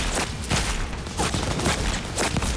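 Gunfire in the video game Cyberpunk 2077, a quick string of loud, punchy shots close up, fired in an uneven rhythm across a couple of seconds with no voice over it.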